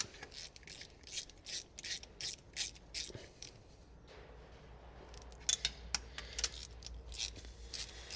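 A ratchet clicks in quick bursts while spark plugs are wound into a Jaguar E-Type engine and nipped tight once they bottom out. The strokes are close and moderately loud, with a few sharper metallic ticks near the end.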